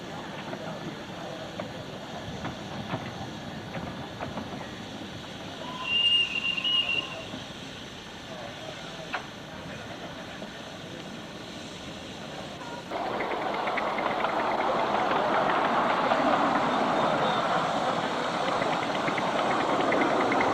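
Ground-level miniature railway engine running along its track, a steady low rumble that swells louder partway through, with brief squeaks and some talk in the background.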